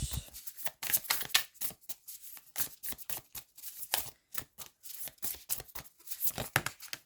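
Tarot cards shuffled and drawn by hand: a steady run of quick, crisp riffling and slapping bursts, close and fairly loud, with no speech.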